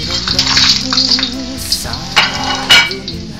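Canton noodles crackling in very hot oil in a pan, a bright sizzle with clinks of the utensil and a few louder bursts as they are flipped, while someone talks over it.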